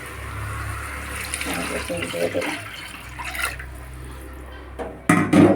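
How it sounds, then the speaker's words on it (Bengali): Broth is poured into a pan of rohu fish curry with cauliflower, a running liquid splash under a person talking, ending with a louder clatter. "এখন আমি এটার মধ্যে ঝোল দিয়ে দেবো"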